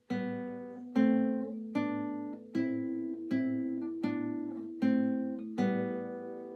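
Guitar free strokes on open strings in a tonalization exercise: seven evenly spaced plucked chords ring out one after another, each sustaining and fading before the next, played alone without talk.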